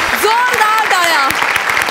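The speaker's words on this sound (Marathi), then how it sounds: "जोरदार टाळ्या." A studio audience at a Marathi comedy show applauds with loud, dense, continuous clapping. Voices and cheering rise over the claps throughout.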